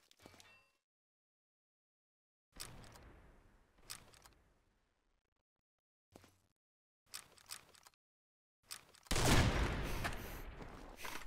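In the online shooter Combat Arms, gunfire comes in several separate short volleys with silent gaps between them. It ends in one longer, louder burst of rapid automatic fire.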